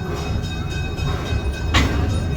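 The zoo train at Henry Doorly Zoo in Omaha rolls along with a steady low rumble of wheels and cars, with a brief sharper clank near the end.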